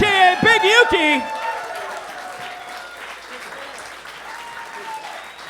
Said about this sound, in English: Wonderful round of applause